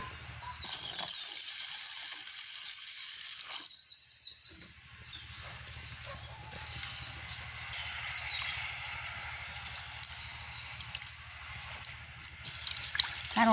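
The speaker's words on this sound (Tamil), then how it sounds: "நாங்கள் இப்போ பருப்பை கழுவி எடுப்போம்." Water swishing and trickling steadily close by, with small splashes and faint clinks as lentils are rinsed.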